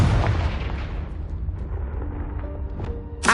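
A Confringo spell explodes in Hogwarts Legacy, a heavy booming blast that starts loud and decays into a low rumble, with a sharp crack at the very end.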